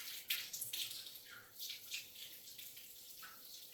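Water running from a tap into a container to soak sweet potato slips, a faint, steady splashing rush with no talking.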